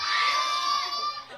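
A live audience shouts loudly together in a sustained, excited roar of mixed voices, close and full, fading slightly toward the end.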